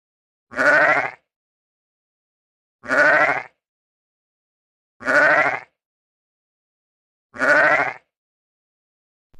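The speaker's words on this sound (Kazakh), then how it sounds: "қой" Four loud, separate sheep bleats come at regular intervals, each a wavering, voiced cry lasting about half a second, with silence between them.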